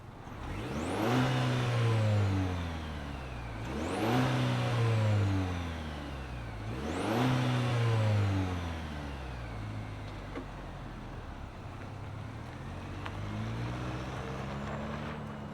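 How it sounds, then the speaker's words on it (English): The four-cylinder engine of a 2024 Chevrolet Colorado ZR2 Bison fires up and is revved three times in even bursts, then drops back to a quieter idle, heard close and alone. "let's fire it up and hear what kind of noise the 4-banger makes"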